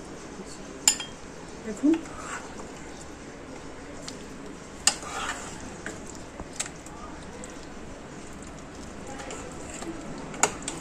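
A few sparse clinks of a utensil against a bowl while fish-head muri ghonto made with katla fish head is scooped out, set against a quiet kitchen background with a voice speaking briefly.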